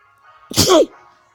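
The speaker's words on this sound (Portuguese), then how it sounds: "Espirrei." A single sharp human sneeze, close and loud, with a short inhale before the burst and quiet game sounds faintly behind.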